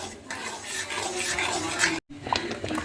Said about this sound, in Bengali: তো সেক্ষেত্রে আমরা আবার নাড়াবো, নাড়িয়ে এভাবে আমি ফোটাতে থাকবো।